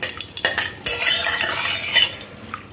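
Two dried red chillies fry in a generous pool of white oil in a kadai, a steady bright hiss broken by the clinks and scrapes of a spoon stirring against the pan.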